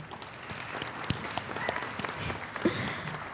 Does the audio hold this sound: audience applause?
yes